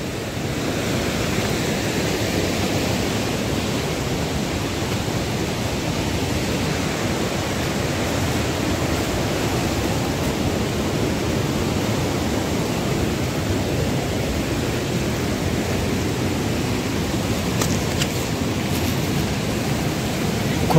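The Marsyangdi river in Nepal rushing past, a broad, steady roar of flowing water that holds constant and loud for the whole stretch, with no talking over it.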